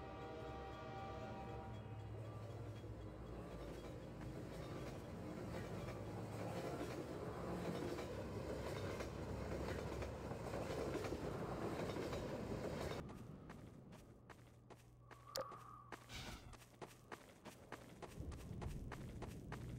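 A train rolling along rails in Half-Life 2: Episode Two, a steady dense rumble with rhythmic clatter that drops off abruptly partway through, leaving quieter mechanical noise and a brief tonal squeal.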